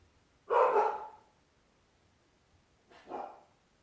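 A dog gives two short barks, the first loud and sharp, the second softer about two and a half seconds later, close by against a quiet background.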